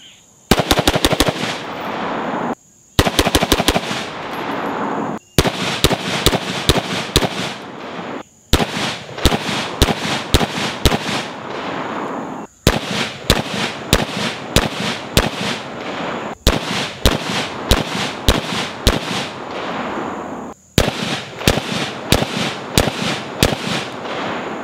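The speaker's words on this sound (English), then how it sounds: "I shot at 4 different distances using the dead air flash hider on one target and the Surefire War Comp on the other target." Rifle fire with a Dead Air flash hider and a SureFire WarComp: loud, sharp shots come in seven rapid strings of about five rounds each, with short pauses between the strings and no voices.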